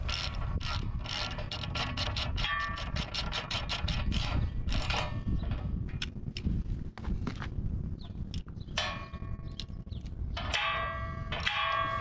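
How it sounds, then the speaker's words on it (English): Wrench turning a bolt into the stabilizer spike on a heavy-duty pallet fork frame with bale spike, a quick series of close metallic ratcheting clicks followed by scattered clanks, scrapes and clicking bursts. "once I feel it start to set itself into the stabilizer spike, that's when I'll start turning the wrench on it"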